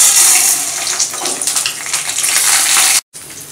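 Urad dal, chilies, ginger and garlic sizzle in hot refined oil with a loud, steady hiss full of crackles. The sizzle drops out briefly near the end, then resumes more quietly.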